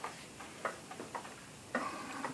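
An 1865 Seth Thomas 30-hour Ogee mantel clock in a walnut half-column case ticks steadily, each quiet, close tick evenly spaced with no voices.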